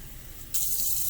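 Tap water runs into a strainer in a kitchen sink, starting abruptly partway through as a loud, steady hissing stream that continues to the end, close by, with no talking.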